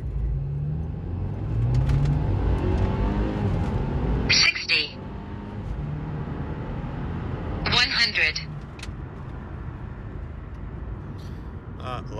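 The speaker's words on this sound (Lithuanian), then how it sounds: "C300 nuo 0 iki 100 pirmas stage'as" A stage-one tuned Mercedes C300 accelerates hard from 0 to 100 km/h, its engine rumbling and climbing in pitch under steady conversation from people nearby.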